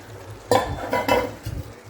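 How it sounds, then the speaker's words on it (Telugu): Fried bommidi fish go into a tamarind gravy and are stirred, with a few soft clattering knocks and scraping bursts of a utensil against the pot over a quiet background. "వేసేసుకొని ఒకసారి కలిపేసి మూత పెట్టేద్దాం"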